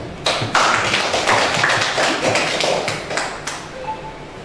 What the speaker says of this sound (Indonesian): Mari sekali lagi kami aplaus.